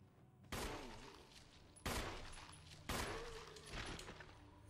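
Three heavy gunshots from the video game Resident Evil Remastered, each a loud sharp blast followed by a long ringing decay, spaced about a second apart in an otherwise quiet scene.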